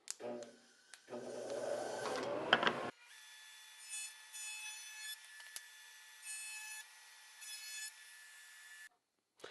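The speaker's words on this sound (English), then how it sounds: "I'm just at my router here, and I'm just going to round over the edges of that." A router rounds over the edges of pine wood, starting with a short burst of rough cutting noise, then settling into a quieter, steady motor whine with slight dips before it cuts off near the end.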